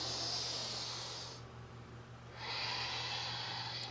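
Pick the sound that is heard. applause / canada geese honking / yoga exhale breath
yoga exhale breath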